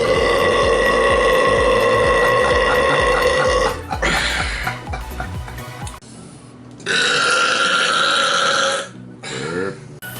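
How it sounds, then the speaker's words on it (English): Loud, long, deep burps come in a few drawn-out bursts after gulping a carbonated drink, close and forceful with short pauses between them. "I have to get all the carbonation out"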